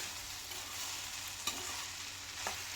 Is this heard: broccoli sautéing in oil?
yes